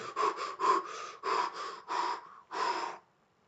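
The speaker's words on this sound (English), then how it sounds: "when we're tired, we just finished scrambling, we might be panting" A person acts out being out of breath, giving a series of five quick, heavy panting breaths in a steady rhythm, close and loud, before falling silent.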